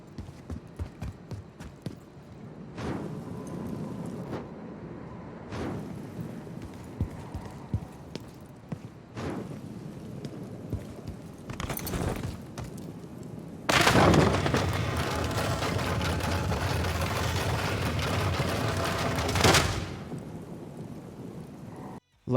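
Torches flaring to life at a vault entrance in the game Fortune's Keep, with a throne nearby: a series of short whooshing ignition bursts, then a long roaring fire swell lasting several seconds before it cuts off.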